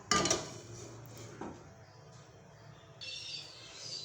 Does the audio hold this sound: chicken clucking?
no